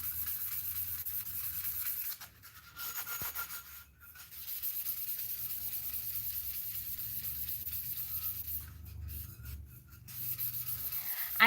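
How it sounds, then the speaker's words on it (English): Steady dry rubbing of a sanding block over a cup being prepared for acrylic pour painting, continuous close strokes with a brief pause partway through, no talking. "We can go ahead and sand. Because it certainly wouldn't hurt. Let's go ahead. I just have a sanding block."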